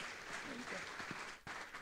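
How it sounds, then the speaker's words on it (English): Applause from the audience at a blockchain regulation summit panel in Asia, a short burst of steady clapping that carries over a brief spoken welcome before dropping off abruptly. "A round of applause, please."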